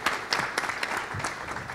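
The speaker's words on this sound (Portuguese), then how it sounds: "Salva de palmas" Audience clapping at a tribute event honouring compositions, a steady patter of many hands with some louder individual claps standing out, continuous throughout.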